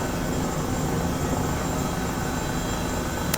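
An Airbus H135 helicopter in Microsoft Flight Simulator 2020 flies near Burbank, its rotor and turbine drone loud and constant throughout.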